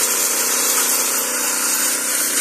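Small two-stroke engine of a T16 brush cutter used to clear undergrowth, running steadily at a constant high-pitched drone with no change in speed, loud and close, with no voices.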